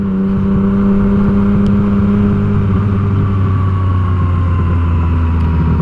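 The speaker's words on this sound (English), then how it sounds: "this is where the choppiness of the throttle of this bike really gets annoying" Yamaha FZ-09 motorcycle engine on a dual-sport ride, a steady loud drone with pitch that wavers and shifts as the throttle comes on unevenly, continuous and close throughout.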